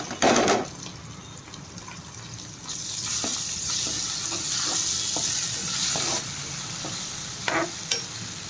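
Ginger garlic paste frying in a pan with turmeric, a soft sizzle under stirring scrapes and occasional sharp clinks of a utensil against the pan, no talking.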